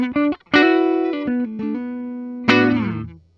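A Gibson Noel Gallagher 1960 ES-355 semi-hollow electric guitar on its neck pickup plays overdriven lead notes: a couple of short plucks, then long, warm sustained notes and slides, a final note ringing out alone.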